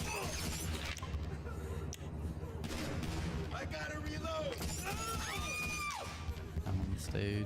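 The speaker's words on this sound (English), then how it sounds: "I want to shoot these guys." Gunfire in the GTA Online video game, scattered shots and bursts over a dense, busy mix of music and game noise, with whistling, swooping effects and a voice talking throughout.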